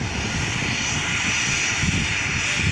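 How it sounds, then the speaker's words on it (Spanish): An airplane arriving from Aeroparque for an organ-procurement operation roars steadily nearby, a loud sustained engine drone with no break. "Está llegando el quinto avión proveniente de Aeroparque para el operativo de ablación."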